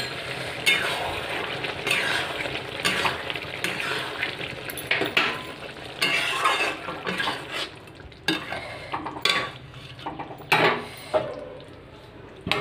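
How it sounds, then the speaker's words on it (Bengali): Finished papaya curry is scraped and ladled from a pan into a bowl. Metal spoon and pot clatter and knock in irregular bursts over a faint sizzle. "গামলাটার মধ্যে নামিয়ে নিচ্ছি।"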